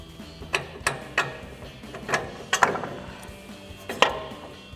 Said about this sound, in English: we can remove our lower strut bolt